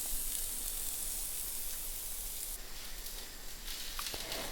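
Ingredients for char siu pork chow mein frying in a pan, a steady, dense, close sizzle and hiss that continues throughout with no pauses and a slight shift partway through.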